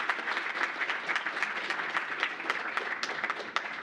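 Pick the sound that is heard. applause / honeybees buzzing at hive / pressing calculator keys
applause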